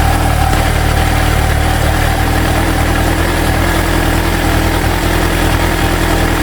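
A motorcycle engine with Mikuni BDST 38 carburetors idles loudly and steadily, a continuous close rumble with vibration and no pauses or voices.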